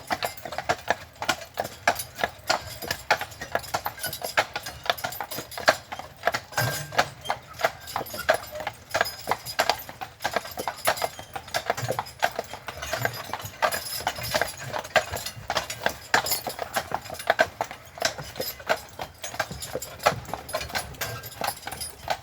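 Horse hooves of a carriage on Mackinac Island clip-clop in a steady, continuous rhythm, close and clear, with faint background sound.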